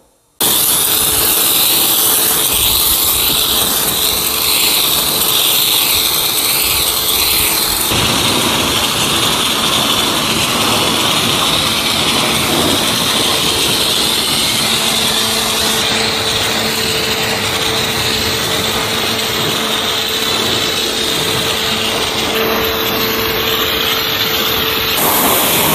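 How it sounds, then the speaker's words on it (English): A pressure washer runs near and loud, its motor droning steadily with a hissing spray throughout, the pitch shifting slightly at moments as the water stream changes. "I just took out the pressure washer, as you saw there."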